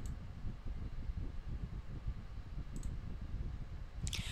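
Two sharp mouse clicks on a print button, one brief and soft near the middle and a louder one at the end, over a low steady background hum.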